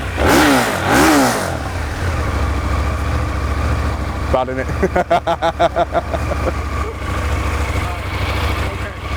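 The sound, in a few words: KTM 990 Duke motorcycle with Remus exhaust revving, with baffling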